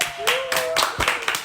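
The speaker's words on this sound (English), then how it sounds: "Ladies, can we get a little round of applause real quick?" Brief burst of clapping from a few people nearby, loose and uneven, with voices chattering over it.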